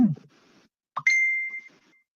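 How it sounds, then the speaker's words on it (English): A phone's incoming-call alert sounds as a short bright electronic tone held for about half a second, following a brief low voice fragment at the start; nearby and fairly loud. "Somebody's trying to call me."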